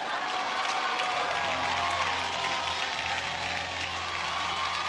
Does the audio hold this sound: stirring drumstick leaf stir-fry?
no